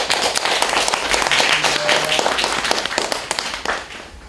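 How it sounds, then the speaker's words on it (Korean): Enthusiastic audience applause greets guests at a Korean youth cultural event held at a traditional Confucian school, a full, bright clatter of many hands clapping that stays loud throughout and eases off slightly near the end. "힘찬 박수로 맞아주시기 바랍니다."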